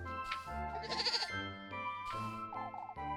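A goat bleats in a video game, a few wavering, nasal cries close and clear, with short pauses between calls and no talking over them.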